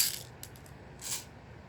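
Beads or small sticks shifting inside a handheld sensory toy, producing two short bursts of bright rattling clicks, close and fairly quiet.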